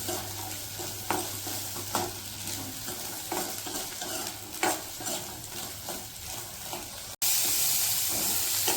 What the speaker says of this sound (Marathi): थोडेसे दाणे मध्ये दोन तीन मिनिट परतवून घेऊया